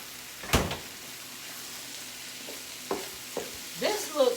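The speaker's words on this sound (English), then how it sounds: "I'm going to just go in with a little bit of broth just to deglaze." Chicken fried rice in a pan gives a faint, steady sizzle, with a few sharp clatters and stirring scrapes toward the end as broth goes in to deglaze.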